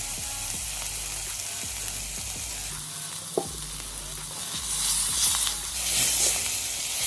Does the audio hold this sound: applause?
no